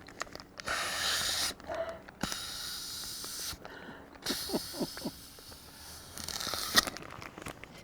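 Air sucked through a straw out of a Ziploc bag holding pesto, heard as several long hissing draws between short pauses, with light crinkling and a few small breathy snorts close up.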